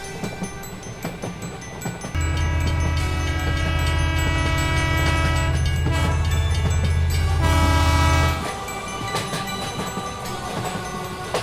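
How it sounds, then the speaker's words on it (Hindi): A passenger train's engine roars into a loud, steady low drone as it starts to move, with a long horn-like tonal blast sustained over several seconds before dropping away to rolling rumble. "अब इन लोगों की ट्रेन भी चल देती है"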